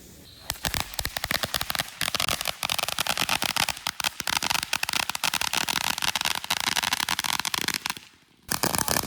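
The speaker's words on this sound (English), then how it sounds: "Kayson's getting ready to shoot off his first firework here." A child's first firework goes off as a dense, steady burst of sharp crackling pops that fills several seconds without pause, breaking off briefly near the end before the popping resumes.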